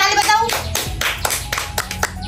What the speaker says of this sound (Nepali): ताली ताली बजाऊ